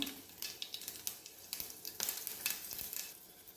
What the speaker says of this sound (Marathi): एक चमचा जिरे मोहरी आणि त्यानंतर एकामध्ये दोन मी मिरच्या भाग केली आहे तर हे टाकूया